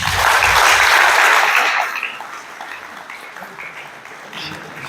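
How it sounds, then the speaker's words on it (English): An audience at a temple gathering claps loudly for about two seconds, then the applause fades quickly into quiet room murmur. "let's give him a clap"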